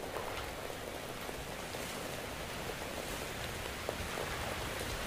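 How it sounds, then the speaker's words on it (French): Soft, even rain hisses steadily throughout in the video game Metro Exodus, a faint constant patter with no voices and no change in intensity. "Oh non, il pleut."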